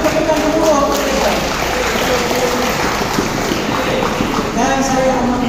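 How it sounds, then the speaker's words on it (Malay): Loud, continuous crowd clapping fills a meeting hall during the OCA annual general meeting, a dense steady wash of applause lasting throughout with some voices mixed in. "Satu tepukan gemuruh kepada mereka."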